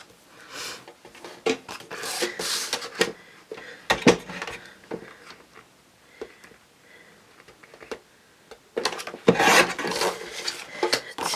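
Cardstock paper being cut into card pieces, likely on a paper trimmer, with several bursts of scraping, rasping cuts separated by short pauses, close and fairly loud, with a longer burst near the end.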